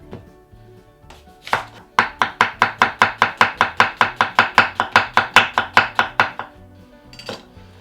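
A knife chops through a whole onion, with a steady run of about twenty sharp, evenly spaced strokes on a board. The chopping is close and loud and heard alone, with a few scattered knocks before and after the run.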